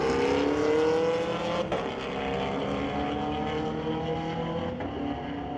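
A 1998 Camaro and a 2017 Camaro drag racing down the strip at Mission Raceway Park, with a steady roaring engine drone heard from a distance, without talk.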